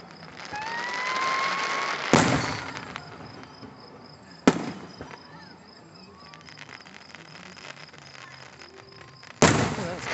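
Fireworks burst three times with loud cracks and rumbling echoes, spaced several seconds apart against a background of chirping insects at night.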